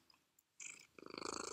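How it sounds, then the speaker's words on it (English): A pet cat purrs right beside the microphone, a soft rhythmic rumble that swells into a steady pulsing cycle of quick breaths, close and fairly loud with nothing else around it. "You can hear purring."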